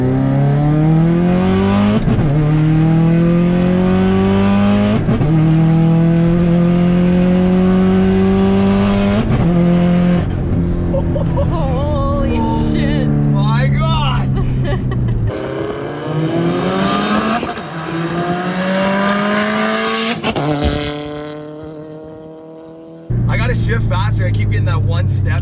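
500hp Subaru STI heard from outside, engine revving hard and accelerating repeatedly with rising gear pulls and shifts, loud and aggressive as it moves around, with people talking over parts of it.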